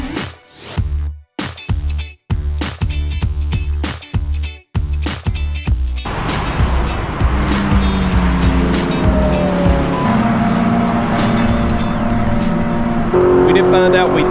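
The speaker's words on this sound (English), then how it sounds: "the BMW cars have rented the track out this morning, so they're going to continue to run" BMW race cars lapping a NASCAR oval, their engines droning loud and steady for the latter part after a stretch of choppy close rumbling, with tire noise and people talking underneath.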